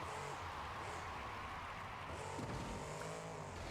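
A monster truck in the BeamNG.drive racing game, fitted with a Ford customizable engine, roars continuously with tire noise and a surge midway, loud and close without voices.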